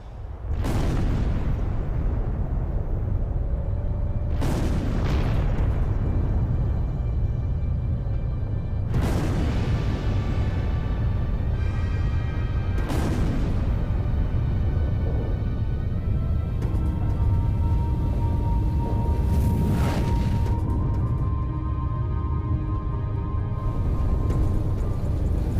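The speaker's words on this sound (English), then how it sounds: "they decide to detonate" Large test detonation monitored by instruments, heard as a deep, sustained roar and rumble that fills the entire span, with several sharp, booming bursts rising out of it at intervals.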